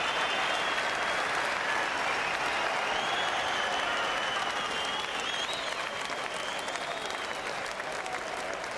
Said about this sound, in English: And just listen to that applause.